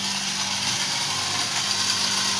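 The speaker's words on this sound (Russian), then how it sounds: "А вот этот шум, это муж у меня мелит зерно." An electric mill grinds grain outdoors near a vegetable garden, giving a loud, steady, unbroken whirring roar that holds constant at close range and drowns out other sounds.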